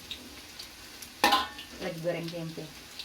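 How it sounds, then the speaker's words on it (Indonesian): Tempeh frying in a pan, a soft sizzle with stirring and a sharp clatter of a utensil against the pan, close by, as someone in the kitchen makes small vocal sounds. "sedangkan yang ini saya lagi goreng tempe"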